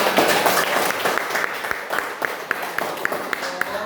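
Students in an informatics classroom applaud a classmate, a burst of mixed clapping that starts dense and then thins to scattered, sharper individual claps.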